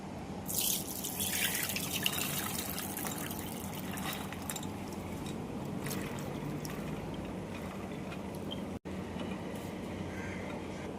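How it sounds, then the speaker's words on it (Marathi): Soaked lentils (dal) drain in a strainer, with water trickling and dripping in a soft, continuous flow that stays close but quiet. "डाळ जी चार ते पाच तासाकरता भिजून ठेवली होती ती आपण पहिले गाळून घेऊ पाणी त्यातलं चांगलं नितळून घेऊया"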